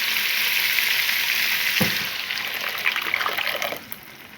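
Tomatoes drop into a bubbling vinegar and garlic sauce for Egyptian fatta: a close, strong sizzle that softens partway through into a gentler simmering crackle with small bubbling pops.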